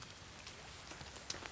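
Steady rain patters across the ground in the survival game The Forest, a soft, even wash of drops that holds for the whole moment with a couple of brief sharper ticks near the end.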